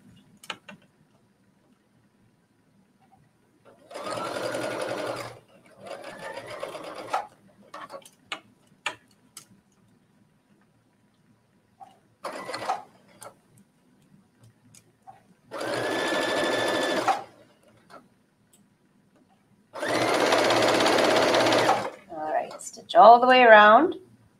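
A sewing machine stitches binding onto a bathing suit coverup in several bursts of fast, close whirring, separated by quiet pauses and faint ticks, with a voice speaking near the end.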